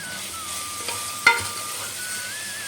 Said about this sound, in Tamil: தக்காளி நல்லா குழைய வதங்கட்டும்.